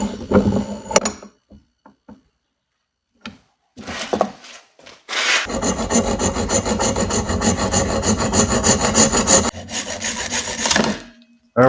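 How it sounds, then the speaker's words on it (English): A chunk of ferro rod is cut off for a bushcraft tool repair: a few scattered close clicks and scrapes, then about six seconds of loud, steady rasping strokes before stopping. No one speaks. "this little chunk of ferro rod here that I just cut off"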